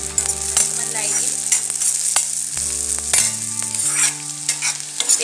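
Onions with green chilli frying and being stirred in a pan for a fish recipe with parijat flowers, a steady close sizzle broken by repeated scraping stirs, with no talking.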